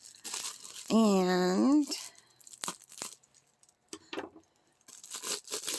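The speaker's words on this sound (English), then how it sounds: "now that it's started, I can just rip it open" An Amazon package being torn open by hand, with a few short ripping and crinkling bursts between stretches of speech, close and fairly loud. A voice also holds one long sung note.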